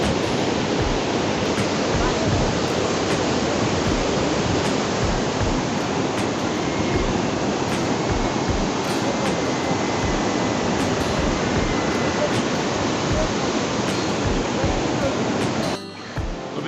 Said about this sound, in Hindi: लैंडस्लाइडिंग या बारिश का पानी कहीं से आ रहा है